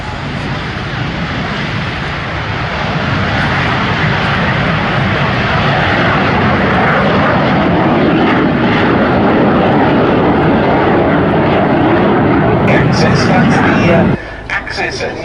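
Two display aircraft roll together down the main runway at the Duxford summer air show, a loud sustained engine roar building and holding before cutting off abruptly near the end, with a commentator's voice over it.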